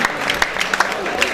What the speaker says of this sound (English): Guys, let's clap for her.